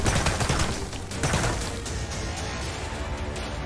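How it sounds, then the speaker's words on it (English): Rapid gunfire rattles in a VR shooter game, dense overlapping shots forming a continuous, fairly loud fusillade with no talking. "I didn't even know who was shooting!"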